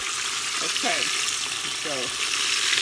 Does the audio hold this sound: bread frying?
yes